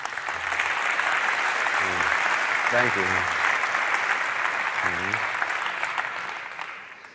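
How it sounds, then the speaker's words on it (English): At a conference, audience applause fills the room as a steady, loud stretch of clapping, and someone briefly speaks over it now and then. "Give her a round of applause."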